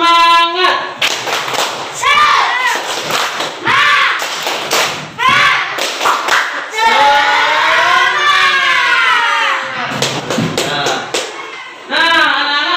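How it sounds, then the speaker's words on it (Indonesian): Schoolchildren in a classroom perform the rhythmic 'tepuk semangat' clapping chant, bursts of hand claps alternating with loud group chanting and a teacher's voice in a lively call-and-response pattern. "Kita awali pelajaran hari ini dengan tepuk semangat terlebih dahulu."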